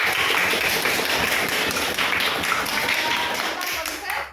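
A room full of people claps steadily for a few seconds, a dense patter of hands that stops abruptly at the end.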